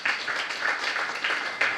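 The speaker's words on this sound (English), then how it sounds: "it's important for us to please a big round of applause to the European Union" A conference audience applauds at a circular economy event, a steady wash of clapping from many hands lasting throughout, moderately loud with slight surges.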